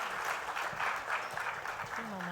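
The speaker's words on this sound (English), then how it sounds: "how incredible were the speakers? A round of applause." An audience claps for the speakers at the close of a talk on sports, data and money, a dense burst of applause from a crowd indoors with a voice briefly over it.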